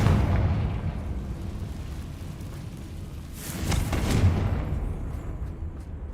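A rumbling explosion from the Confringo spell in the video game Hogwarts Legacy, a deep boom swelling midway over a low continuous roar, with no talking.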